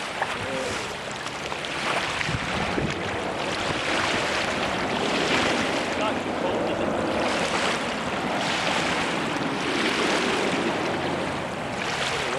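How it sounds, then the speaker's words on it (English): Continuous broadband wash of ocean surf with wind, steady and enveloping, rising and falling gently without clear breaks. "The waves"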